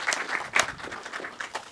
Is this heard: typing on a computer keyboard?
no